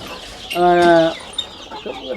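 Young chicks in a brooder box warmed by a 40-watt bulb, with one clear sustained cheeping call up close followed by fainter chirps and rustling.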